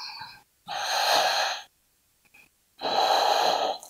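Deep breathing during a yoga flow into dancer's pose, two long, close, airy breaths separated by a short pause, with a brief sharper intake at the start and a faint catch between them.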